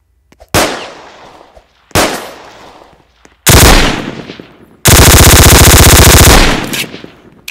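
Rapid automatic gunfire in a video game: two short bursts, then a heavier one and a long sustained loud stream of fast shots near the end, with no talking.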